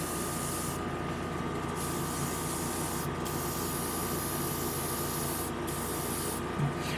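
A continuous close hiss of spray paint applied to a 1/144 Zeta Gundam model kit, with a few brief pauses in the spray.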